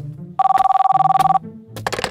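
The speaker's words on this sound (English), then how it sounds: "The shrill ring of the phone cut him off." Shrill telephone ringing in a house, one electronic trilling burst of about a second, loud and close, with rustling and movement sounds before and after.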